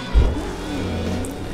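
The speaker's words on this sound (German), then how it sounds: "Halte das Gas gedrückt, um den Motor hochzupowern." A car engine revving in Burnout Paradise Remastered on Switch, with a thump at the start and then a steady mid-pitched engine drone held under throttle throughout.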